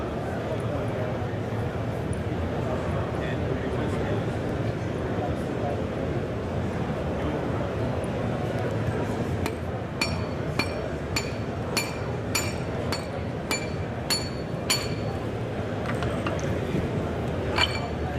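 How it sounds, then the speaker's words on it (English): Sharp metallic hammer strikes ring out in a quick series, knocking a shank adapter flush during equipment maintenance, heard over constant background hum and talk. "he's going to grab a hammer and hammer out the shank adapter until it's flush"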